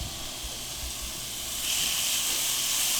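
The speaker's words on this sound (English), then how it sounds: "you hear that sizzle? That's what you want to hear." Shrimp sizzle in a hot pan as a continuous close hiss that grows louder and brighter partway through.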